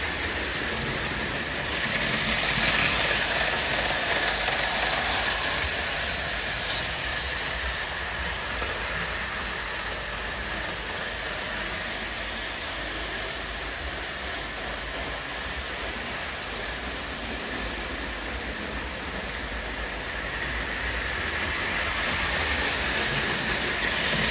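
A Lionel 675 2-6-2 Prairie model steam locomotive, post-war, with Baldwin drivers, runs steadily with a continuous hissing, rushing noise and faint rhythmic clatter, no voices.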